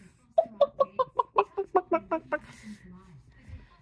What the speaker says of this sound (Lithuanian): Višta ir viščiukas.